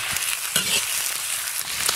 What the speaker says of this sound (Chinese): 炒起以后下入肉